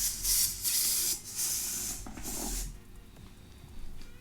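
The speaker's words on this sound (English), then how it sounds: "we've got to deflate the balloons and take the balloon with the cling film" Air hisses steadily out of a deflated balloon in bursts over a few seconds, with faint rubbing and handling of cling film alongside, no talking.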